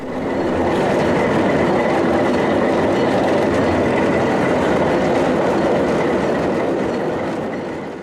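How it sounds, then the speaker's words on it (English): A CPR RS3 diesel locomotive, number 8427, rumbles steadily past with its engine droning and wheels rolling on the rails, loud and continuous for the whole stretch. "8427, meanwhile, is run around the train and readied for the return trip back down to Port Alberni."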